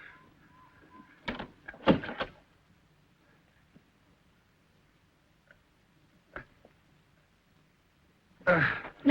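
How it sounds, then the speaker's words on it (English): A door being shut in a 1972 horror thriller, heard as a couple of sharp thuds and clatters early on, then a quiet stretch with small ticks and another loud burst at the end, fairly close. "Shut the door."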